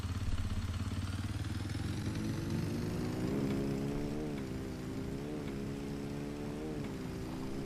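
Motorbike engine in the video game Farming Simulator 25, running steadily and close by, its pitch rising as it accelerates and then wavering, loud and continuous with no talking.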